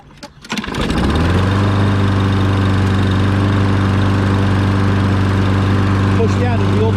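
A pull-start sputters, then a small mower engine catches and settles into a loud, steady drone that runs continuously.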